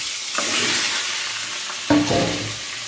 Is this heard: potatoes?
yes